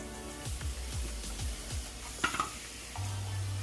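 A whole onion hits a lightly oiled pan with a low sizzle and is stirred in several quick scraping passes, with a brief clink of utensils and the frying hiss steadying toward the end.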